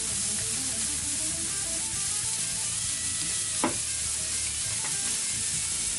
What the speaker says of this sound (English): I'm gonna go ahead and throw on some peppers, some fresh peppers.